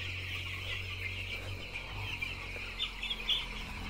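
Chickens clucking and calling in a darkened poultry shed during vaccination, the birds crowded to one side; soft scattered clucks over a constant low fan-like hum, with a few louder calls near the end.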